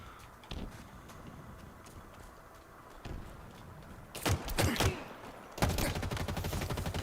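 Video game gunfire from Halo Infinite played on an Xbox Series X: after quieter background game sounds, rapid bursts of shots crackle loudly, with a sustained volley near the end.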